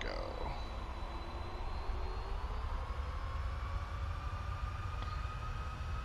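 Jet airliner engines spool up to takeoff power on the takeoff roll, a steady heavy roar with rising whine tones heard from inside the cockpit, continuous throughout.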